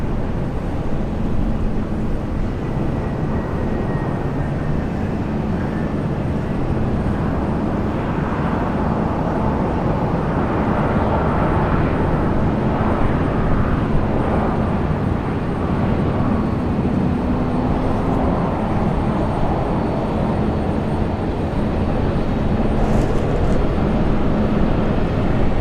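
Airliner engines roar continuously at Brisbane International Airport, a loud, broad rumble that swells and holds for the whole stretch as aircraft move near the runway.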